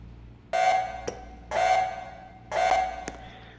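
In a nuclear reactor simulator game, a low period alarm sounds three times at one-second intervals, each a loud, bright buzzing tone cut off by a short click, with quiet between.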